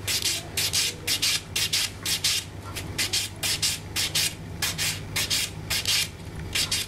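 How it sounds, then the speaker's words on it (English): A nail buffer rubs lightly across the top of a fingernail in short, even back-and-forth strokes, producing a close, soft scratchy swish repeated about twenty times in a steady rhythm. "I'm just going to lightly buff the top of the nail, so this will smooth out the nail plate."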